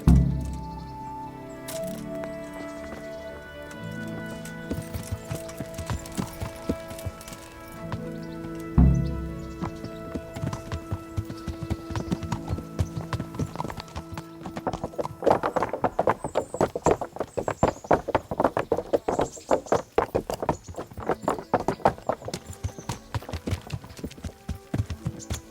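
A horse galloping in the video game Kingdom Come: Deliverance, rhythmic hoofbeats building from a slow start into a fast continuous clatter, loud and close with background game music.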